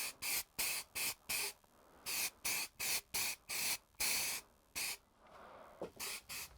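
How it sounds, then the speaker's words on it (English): Short bursts of spray paint apply standard primer to a Suzuki DRZ400SM motorcycle frame, about fifteen close hissing puffs in an uneven rhythm, with a brief pause near the end. "So now it's time to do a layer of standard prime."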